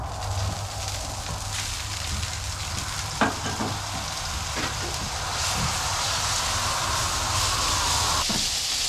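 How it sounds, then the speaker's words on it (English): Steak frying in a little oil on a Blackstone griddle: a continuous close sizzle with a low steady hum beneath, a few sharp scrape or clink accents, rising slightly in intensity, no voices. "We're gonna start by putting on our steak and give that a little bit of a jump start. Put just a little bit of oil down."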